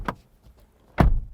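A 2022 Lexus RX350L seven-seat luxury SUV has its car door shut. Two close, sharp thuds sound about a second apart, and the second is heavier and more solid.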